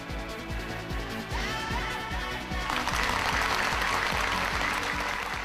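Fans at the September 2002 Japanese premiere screening of Millennium Actress applaud, a soft patter over a musical tone that swells midway into a dense, sustained ovation filling the hall.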